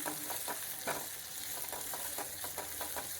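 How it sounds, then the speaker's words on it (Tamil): About fifteen small shallots sizzle in hot oil in a pan, stirred with a spatula that scrapes in irregular bursts over a constant frying hiss, no talk. "ஒரு 15 சின்ன வெங்காயம், இதை நல்லா வதக்கிக்கிடுவோம்"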